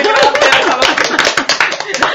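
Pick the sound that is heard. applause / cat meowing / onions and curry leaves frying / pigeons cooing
applause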